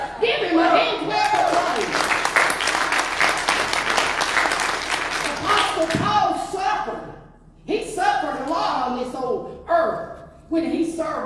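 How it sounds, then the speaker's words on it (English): A church congregation breaks into loud, sustained applause, then the clapping thins out into scattered bursts, with voices calling out over it. "Give him a hand clap."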